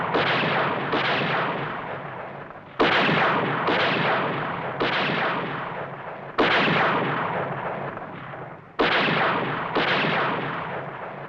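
Heavy gunfire booms in a series of about eight loud, echoing blasts, each one fading slowly before the next shot lands.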